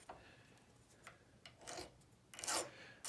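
A metal file rasps lightly across the serving of a traditional recurve bow string held in a vise, in short, gentle scraping strokes that come close and grow louder toward the end.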